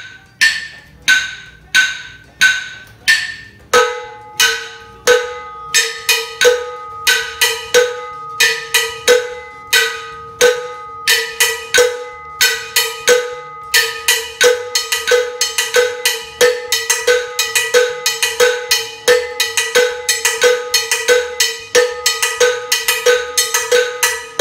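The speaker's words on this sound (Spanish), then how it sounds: "Ahora le vamos a dar con la campana" Cowbell struck in a steady pattern, starting with single hits and then joined by a second, tighter interlocking 2/3 clave pattern. The bright, ringing strikes come loud and close, with no voices.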